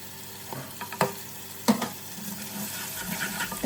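Salt, red chilli powder, crushed chilli and turmeric fry for lentil dal, sizzling steadily in a pan while a spoon stirs and scrapes with several sharp knocks, close up and without speech.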